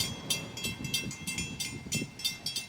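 An LIRR train rolls past the Bethpage crossing outdoors, a low rumble with rhythmic wheel clatter bursts repeating at a steady pace, moderately near and fairly quiet, with some wind.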